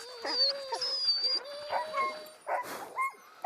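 Sled dogs at a Norwegian racing kennel yelping, whining and barking in excited overlapping bursts, several animals close by with high whimpers between yips.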